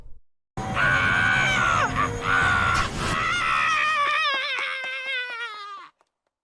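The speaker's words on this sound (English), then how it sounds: "Nice scream." A loud, sustained scream in the horror video game Death Mark, rising and wavering in pitch and then breaking into shaky, trembling cries that fade out after about six seconds.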